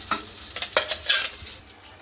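Ground gravy for cashew curry goes into a hot pan, giving a few scraping stirs and brief sizzling bursts over a low, steady hiss, close and fairly soft, with no talking.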